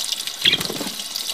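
Water runs steadily from a tap, a close splashing trickle with a brief louder gush near the middle and no talking.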